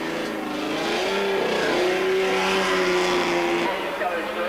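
A BMW touring car races along the Castellet circuit in 1988, its engine holding a steady loud drone as it passes nearby, with a French commentator speaking over the roar.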